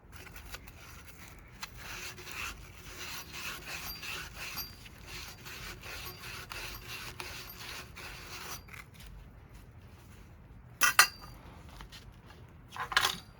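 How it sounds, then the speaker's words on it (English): Steady dry scraping and rubbing as the outside of a pipe is scuffed clean of dirt and dust before soldering, continuous and close, ending with a couple of sharper scrapes. "we're removing all the dirt and dust from the outside of the pipe, scuffing it up"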